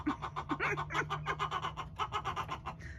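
Several chickens settling in for the night cluck softly and steadily nearby, a busy overlapping chatter of short notes with a faint low hum underneath.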